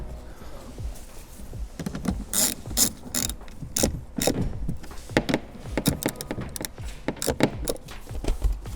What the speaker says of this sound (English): Tuck in the wires. Line up the holes. And screw it back in.